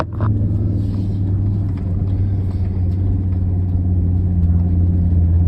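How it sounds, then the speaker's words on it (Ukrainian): A VW T4 4x4 van's engine runs at full throttle while pushing across a wet ploughed field, a loud, steady, close rumbling drone with a constant low tone and no talk. "пхну просто по паханому полю, хай пробачать комбайнери, газ в підлогу"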